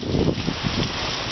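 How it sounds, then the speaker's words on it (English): A brief gust of wind during Hurricane Irma roars against the microphone, a loud, rumbling rush of air with rain, lasting only a moment. "Yeah, there's a gust."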